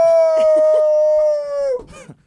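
A man imitates a howling beagle with his voice, holding one long, loud, sustained wavering howl that falls off at the end, followed by brief chatter and laughter.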